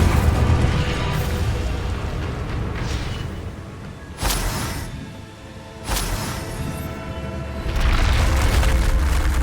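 Incendio fire spell cast in Hogwarts Legacy, a dense roaring whoosh of flame and magic with two sharp booming bursts in the middle and a swell toward the end, loud and continuous with no talk.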